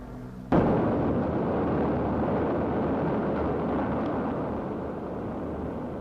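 The atomic bomb dropped by a lone B-29 over Hiroshima in 1945 bursts with a sudden loud blast, then a sustained deep roar and rumble that fades only slightly over several seconds.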